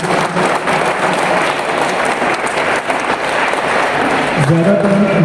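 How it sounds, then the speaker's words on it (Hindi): Crowd applause congratulating participants at a district taekwondo championship in Baramulla, a dense, loud, steady wash of clapping that continues throughout. "उनका मैं चाहता हूँ कि हम एक बार जोरदार तालियों से कंग्रेचुलेट करें"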